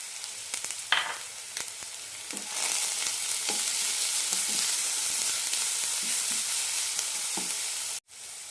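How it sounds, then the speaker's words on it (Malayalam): Onions and carrots sautéing in a pan, a steady loud sizzle with scattered scraping stirs, starting with a few light clinks before the frying swells, then a brief cut-out near the end; no one speaks. "സവാള ചെറുതായി ചോന്ന് കിട്ടണം അതുവരെ വഴറ്റാം ഇനി ഇതിലേക്ക് കുറച്ച് ക്യാരറ്റ് ഇടാം"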